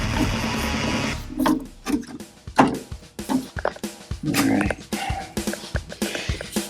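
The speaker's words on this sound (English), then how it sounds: "We're going to go ahead and put one hole right here." A drill boring a pilot hole for a Floyd Rose guitar bridge into the wooden guitar body, with a mid-range whirring motor that comes in several short bursts and stops, close and fairly loud, with no talk.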